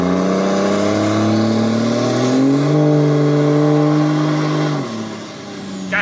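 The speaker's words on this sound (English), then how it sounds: "I can't even go past like a quarter throttle, otherwise these turbos just want to scream" A Cummins diesel truck engine with dual S400 compound turbos revs loud and close, its pitch climbing and holding steady, then dropping as the throttle eases, with turbo whine riding on top.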